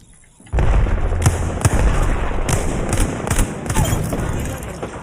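Grenade blasts and heavy gunfire in an Apex Legends match come in suddenly and loud, then continue as a dense, sustained barrage of explosive cracks and bursts that stays close and overwhelming.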